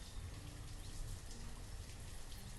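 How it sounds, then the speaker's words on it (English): Steady, dense rainfall in the village-building game Banished, a constant hiss of drops with no pauses, even in level throughout and heard alone without voices. "It's raining again."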